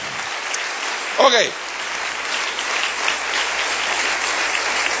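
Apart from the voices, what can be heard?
congregation applause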